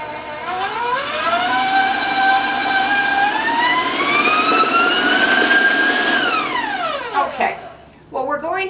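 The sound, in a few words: electric mixer running, mixing ginger cookie dough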